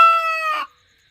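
A rooster gives a single loud crow-like call at a ritual offering to the goddess Kali, a harmonic cry cut short after about half a second and followed by silence.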